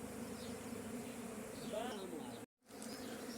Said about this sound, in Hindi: और ये देखो, बहुत सी मधुमक्खियाँ आ गई हैं इस समय यहाँ।